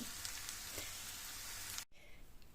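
Food fries uncovered in an open pan on the stove, a dense steady sizzle and crackle like rain that cuts off abruptly near the end, leaving quieter kitchen noise.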